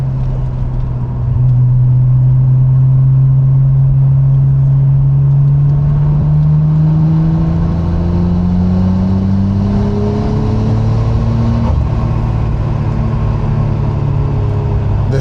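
A Nissan GTR engine runs and accelerates nearby, its loud droning tone rising smoothly in pitch over several seconds and then holding at a steady, sustained whir.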